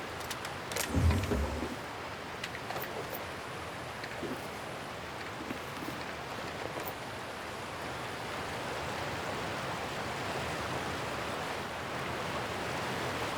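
A waterfall in the video game The Outer Worlds produces a steady, broad rushing roar of falling water that holds even and continuous throughout, with a few faint thumps and footsteps early on.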